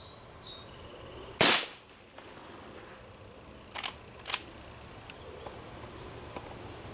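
A single sharp crack from a .22 rifle firing CCI Velocitor ammunition at pop cans outdoors, followed by a couple of faint clicks in an otherwise quiet stretch.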